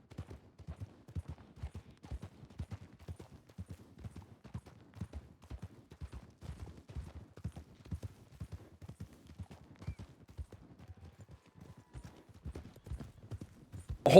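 Horse hooves clip-clop in a quick, steady trotting rhythm, fairly soft and continuous with no voices over them.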